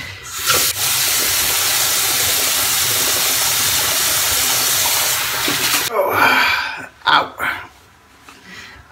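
Running water from a tap rinsing a Triceratrops razor and a freshly shaved face, a steady loud rush for about six seconds, then splashing, intermittent gushes and dripping as the flow is interrupted.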